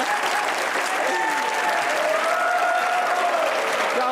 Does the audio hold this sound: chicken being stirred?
no